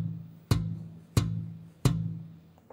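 Three pitchless, percussive ghost notes slapped on a bass guitar, evenly spaced dead thuds, each a sharp click that decays quickly over a faint low hum, played alone without talk.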